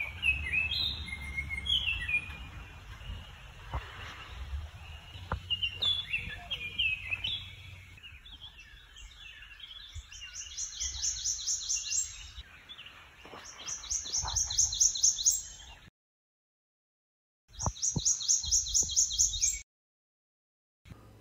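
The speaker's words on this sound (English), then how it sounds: "there are almost always many species of birds singing" Many birds of several species sing in tall trees at the Sequoyah wildlife refuge, with overlapping chirps, trills and whistles near and far, including bursts of high rapid song repeated through the stretch, alone without talk.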